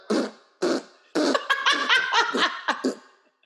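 A voice imitates the farting of walking penguins with a string of sputtering, raspy bursts, two slow ones followed by a rapid run, breaking into laughter.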